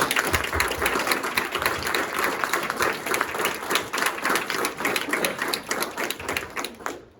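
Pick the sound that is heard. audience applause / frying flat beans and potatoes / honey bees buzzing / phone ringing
audience applause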